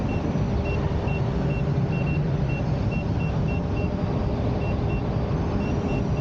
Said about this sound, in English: I like the way the beeps are set up on this wheel.